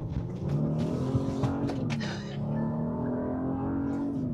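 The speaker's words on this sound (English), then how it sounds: "I have loved driving this car because it has such a peppy engine" A 2024 Genesis GV80 SUV engine accelerating hard in sport mode, a steady rising drone with harmonic whine that holds loud throughout, heard from inside the cabin with no talking.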